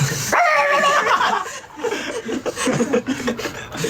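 A person mimics a small dog barking, a short high yapping bark followed by chuckling and laughter from people nearby.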